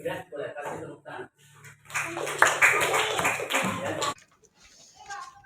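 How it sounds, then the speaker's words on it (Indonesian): A group at a government employee orientation session at a primary school claps after presentations, a sustained burst of close applause under voices that ends abruptly, with talk before and after. "boleh kasih tepuk tangan"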